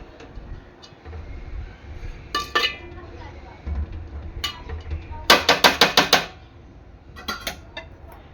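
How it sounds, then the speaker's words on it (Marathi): Rice being stirred into tuna fish biryani gravy in a pot, heard as scattered spoon clinks and scrapes against the metal, with a quick run of sharp taps in the middle and lighter knocks toward the end. "आता वरून मी थोडस भात टाकणार आहे मिक्स करून घ्यायचं आहे"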